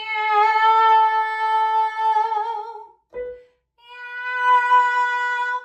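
A voice sings long sustained meow sounds imitating a cat as a mix-voice singing exercise, one held note, a short break, then another drawn-out meow, clear and close.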